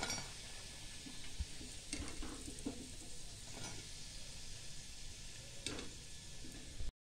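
Sabudana vada frying in hot oil in a home kitchen, a steady close sizzle throughout with occasional soft clinks of a spoon or slotted ladle against the pan and plate.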